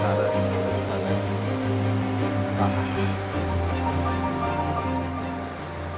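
Sea waves wash steadily onto a wide sandy beach at Neware near Ratnagiri, a continuous rushing surf with no breaks, mixed with a low steady hum, slowly fading.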